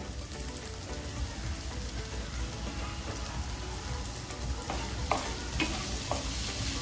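Diced potatoes sauté in a pan with turmeric and hing for a dry fenugreek bhaji, a continuous close sizzle and crackle with occasional scraping stirs and small pops.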